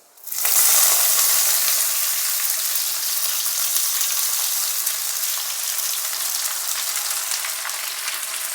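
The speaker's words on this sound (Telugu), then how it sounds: "ఆయిల్ వేసుకొని ఇలా పోపు పెట్టుకోండి" Tempering spices hit hot oil with a sudden loud sizzle that settles into a steady, crackling hiss and continues without a break, for a drumstick leaf stir-fry.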